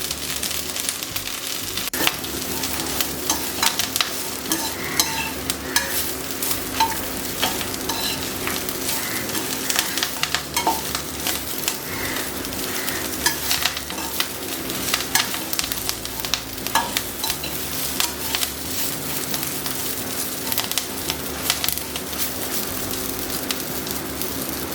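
Curry leaves roasting in a pan until black for a Tamil black chutney, giving a steady, dense crackling sizzle with stirring scrapes throughout, close and fairly loud, with no talking.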